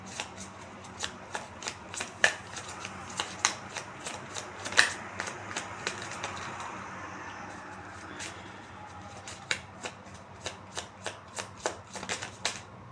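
A deck of tarot cards is shuffled by hand over several seconds, giving repeated crisp riffles and sharp snaps at an uneven rhythm, close up and fairly quiet, with no one talking.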